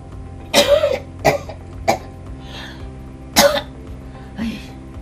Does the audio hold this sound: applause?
no